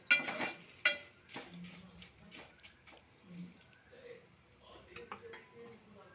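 Dried red chillies and other ingredients being dry-roasted in a pan over a slow to medium flame for an ajwain-leaf pachadi, heard as close clinks and scrapes of a utensil stirring against the pan with quiet gaps between.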